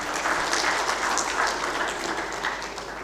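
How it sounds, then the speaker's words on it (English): A conference audience at an Indian aerospace and defence event gives a steady round of applause: dense, sustained clapping from a large crowd that runs unbroken for about three seconds before easing slightly. "let's have a generous round of applause, ladies and gentlemen."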